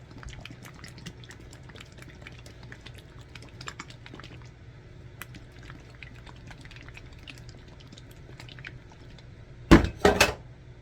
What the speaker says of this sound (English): Have some tiles that just fell off their little cups that they were sitting on.